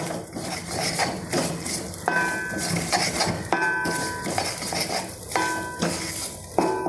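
Curry leaves dropped into a hot pan of spices for a soybean curry, crackling and sizzling with repeated sharp clinks of a metal spoon against the pan, close and fairly loud.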